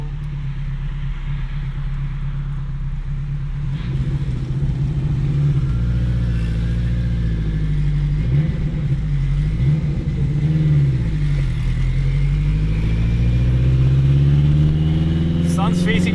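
An 800-horsepower all-wheel-drive turbocharged Acura RSX Type-S pulls hard under full boost, its engine droning loud and near, rising in pitch through gear changes, with a faint high whistle near the end.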